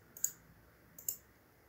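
Two quiet mouse clicks about a second apart while working in visual scripting software, each a short sharp tick over a faint background hiss.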